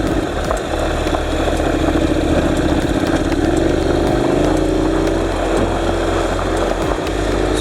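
A Honda NC700X motorcycle engine running on dirt terrain, a steady close mid-pitched drone with a slight rise and fall in pitch as it shifts down a gear, loud and continuous, with no talk.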